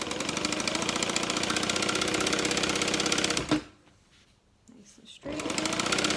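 A sewing machine stitches a tote bag seam along a half-inch allowance, running in a fast, steady whir, then stopping briefly before starting up again. A person speaks.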